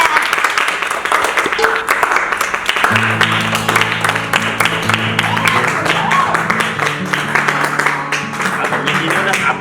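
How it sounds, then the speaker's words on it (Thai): An audience applauds an award winner with continuous clapping from many hands, while a bright melodic tune starts partway through and voices murmur underneath. "ขอเสียงปรบมือหน่อย"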